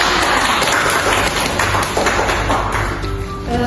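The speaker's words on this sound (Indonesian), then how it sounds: "tepuk tangan untuk teman-teman" Classroom students clap for classmates after a group role-play of a Kancil story, a dense, steady burst of many hands applauding together, close and loud throughout, easing slightly at the end.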